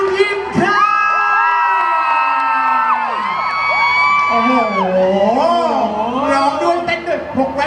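A loud crowd at a charity concert screaming and cheering with high-pitched shrieks rising and falling, filling the whole stretch without letup.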